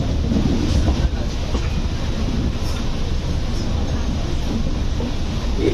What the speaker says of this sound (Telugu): మన ట్రైన్ ఇప్పుడే సాంత్రగచ్చి జంక్షన్లోకి అయితే వెళ్తుంది.